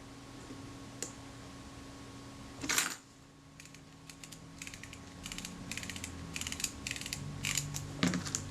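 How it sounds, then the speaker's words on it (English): Quiet series of small mechanical clicks and ticks from the lens of a Kodak Retinette type 022 camera being turned through its click stops during servicing, with a louder clunk near the middle and no talking. "I can hear the click stops,"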